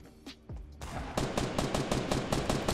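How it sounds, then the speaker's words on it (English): Rapid automatic gunfire in Fortnite, a close burst of evenly spaced loud shots following a couple of softer thuds, with no talking over it. "Who are you shooting right now, Danny?"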